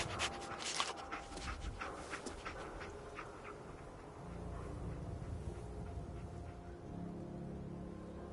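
Dogmeat the dog panting in Fallout 4, quick rhythmic breaths close by, fairly faint, over a low rumbling game background with no talk.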